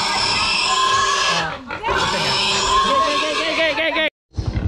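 A pig grunts and oinks loudly and continuously, with harsh rough squeals, then breaks off briefly before a final burst.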